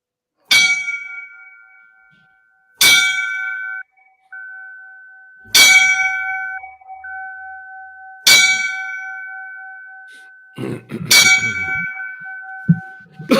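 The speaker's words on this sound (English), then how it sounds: "we're going to give them the 5 bells for all the brothers" A fire department five-bell memorial tribute rings out as five separate loud metallic bell strikes, spaced evenly a few seconds apart, each clang leaving a long sustained ring that fades before the next, with no talking.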